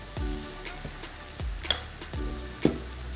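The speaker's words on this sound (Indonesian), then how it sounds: "Kita biarkan ikan terinya ini memberikan sensasi rasa pada bunga pepaya yang sedang kita tumis." Papaya flowers with anchovies sizzle and crackle while stir-frying in a hot pan as a utensil scrapes and stirs in several distinct strokes, close and fairly quiet.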